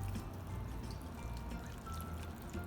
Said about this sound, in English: absorbed a lot of the liquid. Now I'll add the rest of it